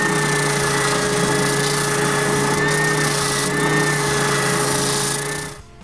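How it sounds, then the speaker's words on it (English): A power sander grinds a curved wooden shape: a loud, steady motor drone with a constant hum that runs unbroken, then winds down at the very end. "I sand away the curved shape on the sander."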